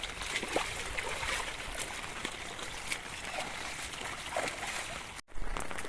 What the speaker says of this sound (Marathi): बघा पाणी किती वाहतं आता बघा